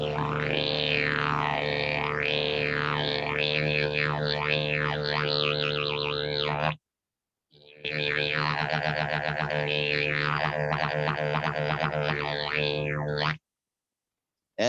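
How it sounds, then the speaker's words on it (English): Didgeridoo played without voice at a middle school, the player shifting the tongue forward and back to sweep the drone's overtones into looping, wah-like boings over a steady low hum, loud and continuous with a brief gap midway. "a crash course in how to make sounds with the didgeridoo"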